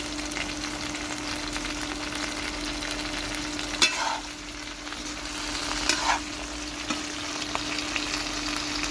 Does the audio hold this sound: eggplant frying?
yes